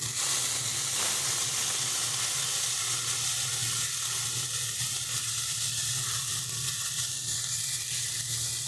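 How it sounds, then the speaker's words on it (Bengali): Ground spice paste with green chili and ginger paste fries in a pan, a loud continuous close sizzle that stays steady throughout. "দিয়ে দিচ্ছি বাটা মশলা, কাঁচা লঙ্কা বাটা, আদা বাটা দিয়ে এটাকে ভালো করে আমরা কষিয়ে নেব।"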